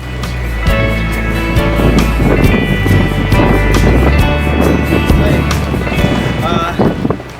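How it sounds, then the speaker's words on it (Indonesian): Strong wind buffets the microphone at a beach in the open air, a steady loud roar with gusty swells throughout and no voice over it. "Anginnya cukup kencang ya"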